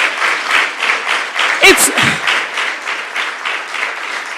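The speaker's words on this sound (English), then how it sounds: "Let's give them a hand of applause." Audience applause at a live magazine event, a dense burst of clapping that holds steady for several seconds, with a brief spoken word near the start.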